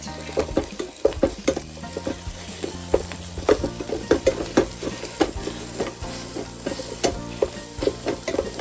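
Refried beans with chorizo fry in a pan, a continuous sizzle broken by frequent soft stirring and mashing knocks in an uneven rhythm, close and steady throughout with no talking.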